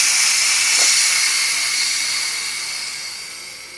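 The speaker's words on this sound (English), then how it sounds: "my pressure cooker thing went on" A pressure cooker vents steam in a steady, loud hiss that holds for several seconds and slowly fades, with no voices over it.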